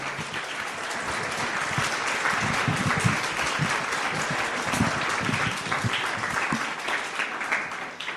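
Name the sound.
congregation applauding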